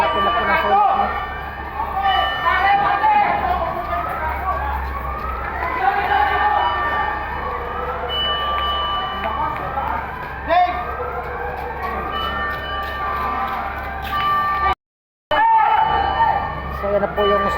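Fire truck sirens wail in rising and falling sweeps, several overlapping, loud and close, at a large fire in Maypajo, Caloocan, with heavy engine rumble and people talking beneath, briefly cutting out near the end.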